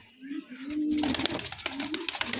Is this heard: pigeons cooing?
yes